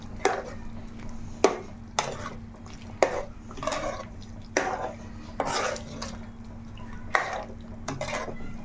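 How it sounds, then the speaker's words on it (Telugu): Gongura leaves stirred into a pot of chicken curry, with regular scraping and knocking spoon strokes about once a second against the pot over a steady low hum, heard close up. "గోంగూర అయితే వేసుకుందాం దగ్గరికి వచ్చే టైంలోనే వేసుకోవాలి గోంగూర"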